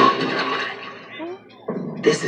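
A toilet flushes with a loud rush of water that fades, then surges again near the end, with voices over it.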